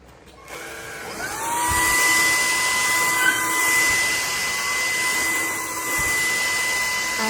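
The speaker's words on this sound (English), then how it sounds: "this vacuum has done such a great job" A JELLYPIG cordless stick vacuum cleaner, a 650W 55KPA model, runs at its second power setting with a steady, loud motor whine that rises briefly at the start and stays constant, with light shifts in pitch.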